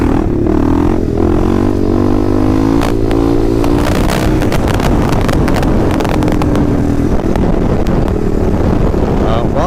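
A Kawasaki KLR650 motorcycle is revved and its clutch dumped for a second-gear wheelie, the engine note rising and falling under heavy wind buffeting on the microphone, with a voice speaking over it.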